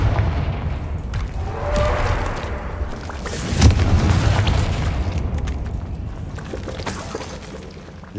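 A Confringo fire spell in Hogwarts Legacy bursts with booming, crackling explosions and shattering debris, loud and sustained over a rumbling game background with no voices.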